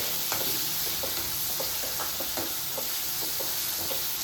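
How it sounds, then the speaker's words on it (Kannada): Green chicken sukha sizzles steadily in a hot pan while a spoon scrapes and knocks through it in irregular strokes, a close, continuous frying hiss with no talking. "ಇದು ಕೂಡ ಚೆನ್ನಾಗಿ ಫ್ರೈ ಆಗೋಗಿ"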